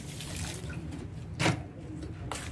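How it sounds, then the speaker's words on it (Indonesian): Fermentation liquid is poured over household-waste compost, a brief splashing gush in the middle against a steady low background hum, with no talking. "Ini air fermentasinya ya, kita siram-siramkan ke sini."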